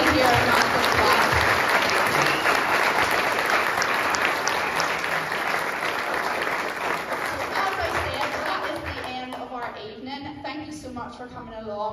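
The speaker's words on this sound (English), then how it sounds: "So can we just give everybody here a round of applause?" Audience applause after a Christmas musical performance, dense clapping that gradually fades as voices emerge near the end.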